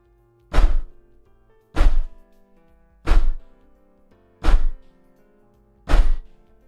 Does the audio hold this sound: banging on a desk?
yes